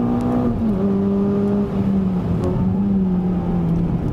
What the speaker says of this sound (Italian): la macchina è potentissima, potentissima, un aspirato molto incazzato